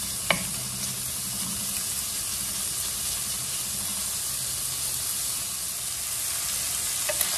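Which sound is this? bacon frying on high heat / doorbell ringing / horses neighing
bacon frying on high heat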